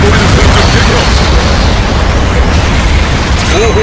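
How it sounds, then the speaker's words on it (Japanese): Artillery bombardment from rear support units in Gundam Battle Operation 2, a loud, continuous rumbling barrage of blasts filling the whole moment with no break. "後方部隊からの砲撃が始まった。"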